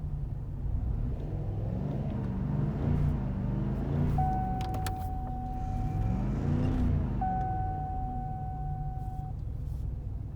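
1997 hearse engine idling roughly, a low uneven rumble with slow surging swells, plus brief steady electronic beeps partway through.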